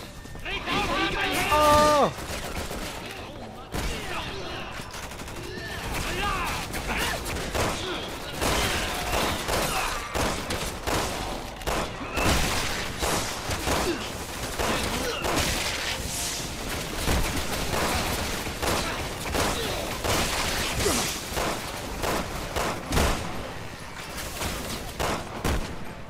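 Rapid bursts of gunfire from the video game Resident Evil 6 crackle through a combat scene, repeated shots and fusillades scattered across the stretch with running and impacts, mixed under game voices and player chatter.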